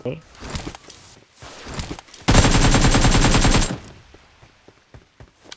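Battle royale video game combat with a close, loud burst of rapid automatic gunfire lasting over a second, set between footsteps and light movement sounds, while a person speaks intermittently over the game audio.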